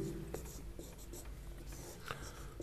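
Chalk or marker scratching across a board during a Class 10 trigonometry maths lesson, a steady rubbing scrawl with brief strokes, low and close, running alone with no speech over it.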